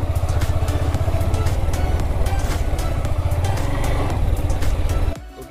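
A motorcycle engine idles and putters close by as the bike is parked near a tree on a trekking route, a steady throbbing rumble that cuts off abruptly near the end.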